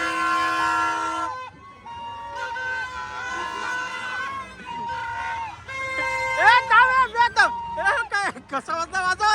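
A loud horn is sounded repeatedly at a village fair for the goddess Chandika Devi in Juchandra, in long blasts and then choppy bursts, with voices around it.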